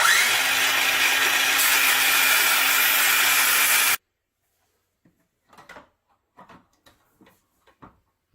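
A wooden window trim piece wrapped in masking tape is cut in a garage, a loud steady buzzing cut lasting a few seconds that stops sharply, followed by quiet with scattered small clicks and knocks.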